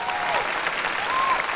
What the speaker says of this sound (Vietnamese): Một tràng vỗ tay